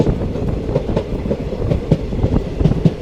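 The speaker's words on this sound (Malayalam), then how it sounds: "നമ്മുടെ ട്രെയിൻ പോകുന്നുണ്ടല്ലോ" A general class train between Tirunelveli and Sengottai rolls along curving rails with a steady rumble and rhythmic clickety-clack of wheels over track joints, close and continuous.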